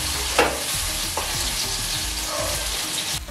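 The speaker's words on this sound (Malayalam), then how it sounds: "ഇപ്പൊ നമ്മുടെ ഉള്ളി രണ്ട് മൂത്ത് പരിവായി." Onions frying in a pan until browned, a continuous close sizzle broken by a few louder stirring scrapes against the pan, with no talking.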